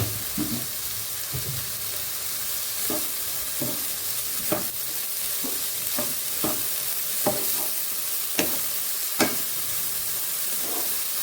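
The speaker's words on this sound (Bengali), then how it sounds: "এটাকে এখন ভাজি ভাজি করে নেব।" Cauliflower paratha filling with sugar and garam masala fries in a pan, giving a quiet steady sizzle. Repeated sharp scrapes and clinks of a spatula stirring break in at irregular intervals.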